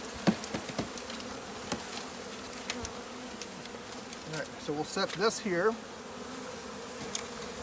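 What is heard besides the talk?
honey bee swarm buzzing while installing a bee package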